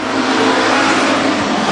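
WISSOTA street stock race cars roar around the oval at Granite City Speedway on the final lap, a dense, loud, sustained engine drone with no clear pauses.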